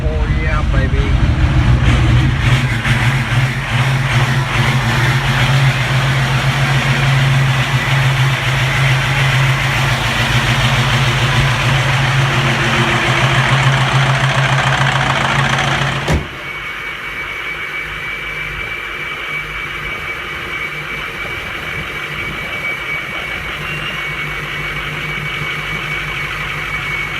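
A truck engine idles loudly after a cold start, a steady, dense rumble that holds for about fifteen seconds, then drops to a quieter, smoother idle for the rest.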